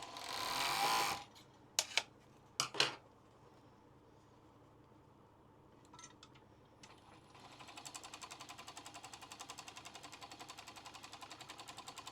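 Sewing machine stitching a fabric tissue pouch: after a few loud handling knocks and rustles, a rapid, even mechanical chatter starts and runs steadily to the end, close and moderately loud.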